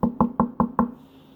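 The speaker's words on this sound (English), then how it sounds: "You hear the knock at the door?" Five sharp, evenly spaced knocks on a door, about a fifth of a second apart, close and clear, then a quiet pause with faint background hum.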